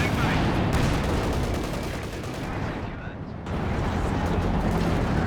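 Katyusha rocket artillery firing in the World War II strategy game Company of Heroes 2, a dense continuous roar of launches and explosions with a brief dip before the barrage surges again, with a voice talking underneath.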